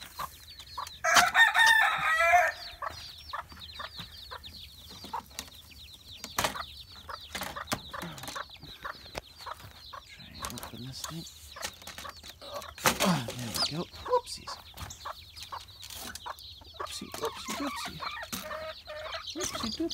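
A small brood of fragile baby chicks peeps with thin, high-pitched calls that repeat throughout. A few louder, busier bursts of calling stand out over a quiet background.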